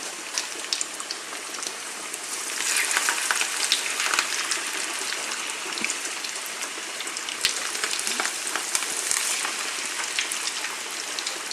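Breaded chicken goujons fry in hot oil, a dense close-up crackling sizzle like rain, steady with scattered sharp pops and spatters throughout and no voices.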